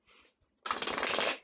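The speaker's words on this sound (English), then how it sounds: "The card's not wanting to shuffle at all." A short riffle of playing cards, then a longer, louder shuffle with rapid fluttering snaps, close by.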